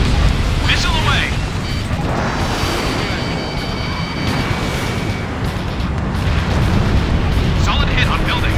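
A missile explosion striking a building in the Ace Combat Infinity game: a heavy rumbling boom with dense low crackle that lasts several seconds, with radio voices talking over it.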